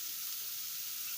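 Red lentils sizzling as they brown in a pan for a soup, a steady, soft hiss of frying heard close up with no talk.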